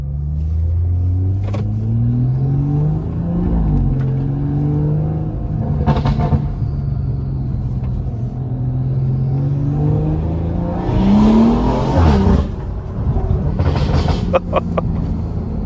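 A BMW M140i with a tuned 500-horsepower B58 engine drones and revs as it drives, pitch rising and falling through gear changes, with road rumble and a few sharp clunks.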